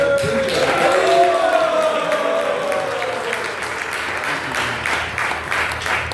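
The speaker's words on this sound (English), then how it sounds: "let's give Bhuta Bhavana a nice, warm round of applause" Warm audience applause for a speaker at a talk event, steady dense clapping throughout with some crowd noise and a voice rising over it near the start.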